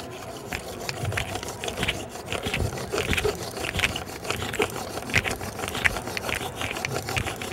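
Wood rubs against wood in a steady rhythmic back-and-forth rasping of a friction fire drill, close by, each stroke producing a scratchy grinding burst.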